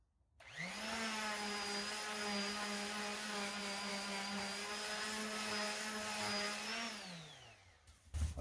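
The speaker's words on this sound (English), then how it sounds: "All right, so here's the sander and my extra paper." Electric sander removing paint, spinning up to a loud, steady whine that holds for several seconds before winding down, with a brief clatter at the end.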